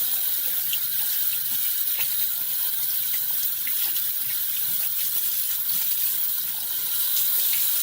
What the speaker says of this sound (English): Rinse out the brush